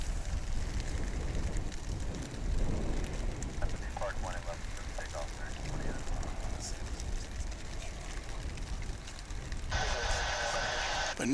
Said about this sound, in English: It sounds worse than it is because it's hitting on a plastic shower curtain.